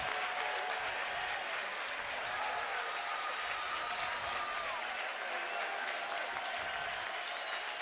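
A college baseball crowd at an LSU versus Ole Miss game cheers and claps steadily throughout, a dense sustained roar of applause with a few voices rising from it.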